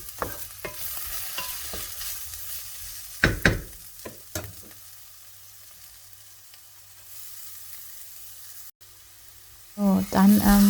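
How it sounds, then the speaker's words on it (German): Spices and salt fry briefly in a hot pan while a spoon stirs, giving a quiet scraping and soft sizzle, then a louder burst of sizzling near the end. "Dann die Gewürze dazugeben und je nach Bedarf dann Salz dazugeben und wirklich kurz dann anbraten."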